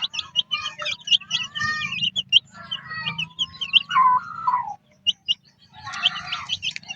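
Newly hatched chicks peep in a close, loud cluster of high, rapid chirps in bursts with brief gaps, over a low background hum.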